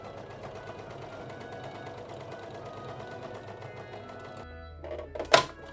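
An overlocker stitches a rolled hem along the side edges of fabric for an 18th century bum pad, a quiet steady mechanical whir under a brief spoken remark, ending in a couple of louder clunks.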